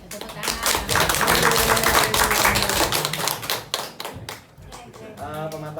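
Loud, close hand clapping in quick rhythmic patterns, several sharp claps in a row, with voices briefly heard near the end.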